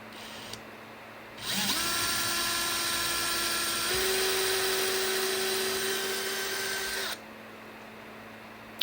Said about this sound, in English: once we're confident that we've drilled it far enough, then we can take our drill out